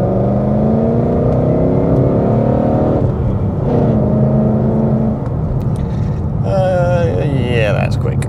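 A supercharged 710hp Mustang accelerates hard, its engine note climbing in steady rising sweeps, loud and close throughout, with a voice talking over it.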